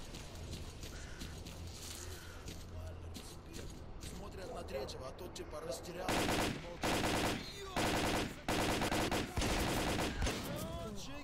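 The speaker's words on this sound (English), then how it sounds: "maybe if I go in guns blazing, I can take them down with just one mag" Automatic gunfire in the S.T.A.L.K.E.R. Clear Sky video game, several loud rapid bursts in the second half after quieter game ambience and scattered shots, with someone talking over it.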